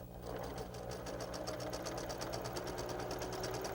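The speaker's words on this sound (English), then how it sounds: "Now I'm going to machine stitch this all the way down, this edging" Sewing machine stitching quilt edging with a 1/4 inch seam, a fast, even, rapid needle chatter over a steady motor hum, close and continuous.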